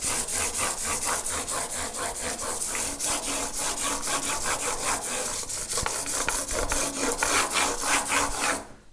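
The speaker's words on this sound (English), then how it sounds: "So I've just got a flat block of wood and some fine sandpaper." Fine 400-grit sandpaper on a flat wood block rubs back and forth over electric guitar frets in quick, steady strokes, a continuous close-up scratchy rasp with no talking.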